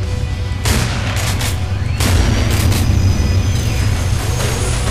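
A gun fires in the horror shooter video game Underhell: loud, booming shots come in heavy overlapping bursts, with a sustained rumble between them.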